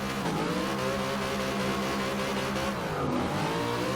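A Plymouth Cuda with a shaker hood launches in Forza Horizon 2, its engine roaring loud and steady. The engine note dips briefly near the end as it shifts and climbs again.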